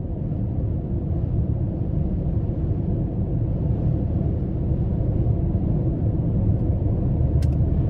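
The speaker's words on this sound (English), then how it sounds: "So the Aviator's basically driving down the interstate no problem." A 2021 Lincoln Aviator Grand Touring SUV with a 3.0 engine cruising along an interstate, heard from inside as a steady, low road-and-engine rumble with no talk.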